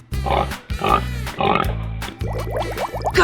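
A cartoon pig oinks and grunts in a 3D animal slide video game, a rapid series of loud, close snorts over a steady upbeat game music loop.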